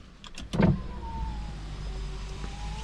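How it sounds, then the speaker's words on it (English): Electric power windows on a 16-year-old crossover whir upward, the worn motors giving a strained, sickly whine after a short clunk, steady and close inside the cabin with no talking. "put the windows up."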